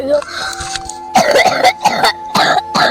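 Several harsh, throaty coughs burst out in short clusters close to the microphone, mixed with speech from the same person.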